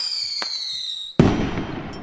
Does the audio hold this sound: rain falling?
no